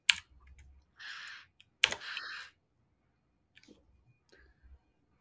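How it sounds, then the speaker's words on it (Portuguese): A few computer keyboard keys pressed in a code editor's terminal, the up arrow then enter: scattered sharp clicks and brief clattering taps, close and isolated against near silence. "É só apertar para cima e bater um enter."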